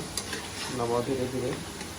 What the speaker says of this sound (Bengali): একটু হালকা হালকা নাড়াচাড়া করতে হবে